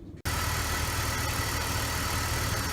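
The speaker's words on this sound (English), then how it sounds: "check for leaks while the engine is idling" After a brief quiet moment, a BMW E46 with the M54 engine idles steadily at close range, with an even low rumble and a faint ticking after a rocker valve cover gasket replacement.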